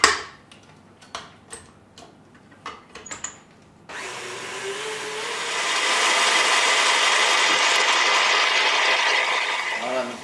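A stand mixer whips chocolate ganache toward a chantilly texture for an exotic chocolate bûche, starting after a few sharp knocks and clatters and then holding a steady, loud motor whir that swells and fades slightly toward the end.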